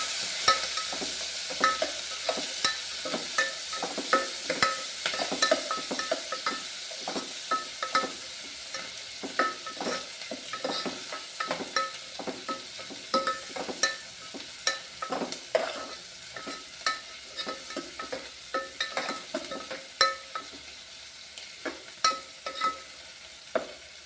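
Onions frying and being stirred in a pan, added after cumin seeds for a brinjal thokku: a steady sizzle with frequent scraping stir strokes throughout, fairly close and moderately loud, with no talk.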